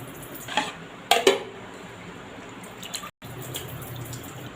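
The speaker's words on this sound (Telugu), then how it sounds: "ఇప్పుడైతే వీటిని వంపేసుకోవాలి వాటరు" Water drains off a bowl of soaked lentils in a home kitchen as a steady wash of liquid noise, broken near the start by a few sharp clinks of a metal vessel.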